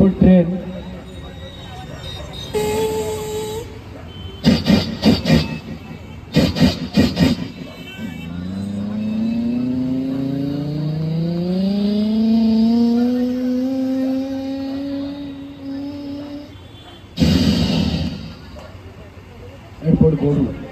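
A person imitates a train with their voice: a few sharp chuffing bursts, then a long rising whistle-like hoot, followed by more puffing bursts. The voice is close and performs alone.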